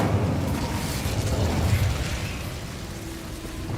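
Incendio fire spell cast in the Hogwarts Legacy video game, heard as a sustained whooshing burst of flame that starts at full strength and then slowly fades, with no voices over it.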